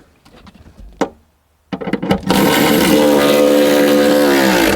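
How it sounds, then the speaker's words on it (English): A few sharp clicks and ratchet taps as the battery hold-down bolts are tightened on a BMW 640i, followed by a loud continuous whirring buzz of a power tool running close up. "I'm gonna tighten the bolts"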